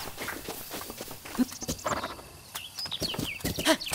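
Horse snorts and a whinny-like call from The Legend of Zelda: Breath of the Wild, mixed with scattered clatter, chirpy tones and other busy effects at moderate loudness.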